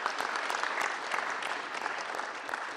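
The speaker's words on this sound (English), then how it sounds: "So give a round of applause to yourself for being a part of this program" Steady, dense applause from a large audience at a morning program, sustained at even loudness throughout with no voices over it.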